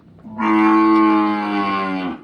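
A Gir cow at a cow shelter gives a single loud, close, sustained moo lasting nearly two seconds, with no other sounds around it.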